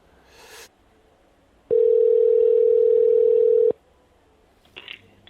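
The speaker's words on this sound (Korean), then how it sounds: "그래서 이 고객센터로 제가 전화를 한번 해보도록 하겠습니다." A loud, steady telephone dial tone lasts about two seconds during a call to a Korean furniture company's customer center, with brief rustling before it and a short electronic chirp after.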